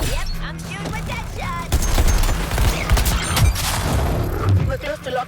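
Rapid bursts of video game gunfire, a superhero-style shooter, crackle densely for several seconds alongside booms and game effects, with voices speaking over the action.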